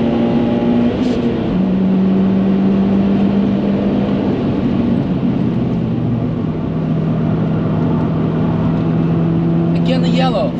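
A Subaru WRX STI S206 Nurburgring Challenge Package with a boxer engine and all-wheel drive drones loudly on a race track from inside the cabin, its engine pitch shifting as the car accelerates, with talk over it.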